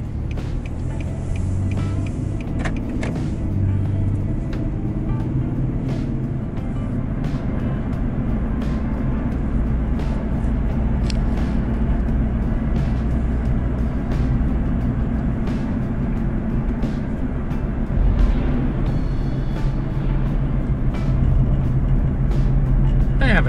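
Car driving along a road in Kathleen, Georgia, heard from inside as a steady low engine and road rumble throughout, with faint intermittent clicks and rattles over the drone.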